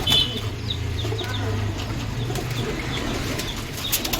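Quick fluttering bursts of wing flaps from Punjabi Madrasi pigeons close by, repeating irregularly over a low, soft cooing murmur.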